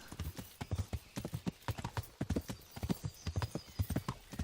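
Horse hooves clip-clop in a steady, rapid rhythm while riding in the video game Kingdom Come: Deliverance, the close and distinct hoofbeats continuing alone without talk.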